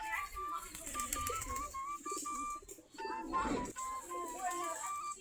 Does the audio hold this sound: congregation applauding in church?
no